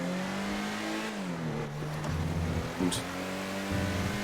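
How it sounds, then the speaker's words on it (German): A car in a GTA roleplay video game accelerates loudly, its engine note climbing, dipping and then holding steady as it pulls away. There is one short tire chirp, and a voice speaks a single word over it. "Ja, und jetzt beschleunigt er richtig."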